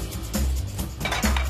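Kitchen pans clattering in a busy competition cooking kitchen, several loud metallic clanks and clinks in quick succession, close by and without talk.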